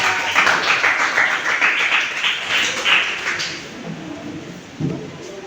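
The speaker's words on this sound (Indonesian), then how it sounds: "sekali lagi beri tepuk tangan dulu untuk kelompok" A classroom of students claps for a student group after its presentation, a steady scattered applause that fades out toward the end, with a few voices murmuring beneath it.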